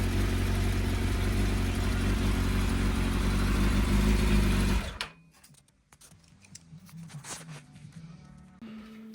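A motorcycle engine only starting to warm up, with one cylinder suspected of getting too little fuel, runs with a steady, close drone for about five seconds, then cuts out, leaving faint clicks and rattles.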